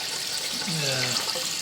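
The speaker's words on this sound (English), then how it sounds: "I'm letting the wort fall from a bit of a height because that's going to oxygenate the beer" Beer wort for an all-grain summer ale pours from a height into a fermenter, a steady watery rush and splash that keeps going throughout.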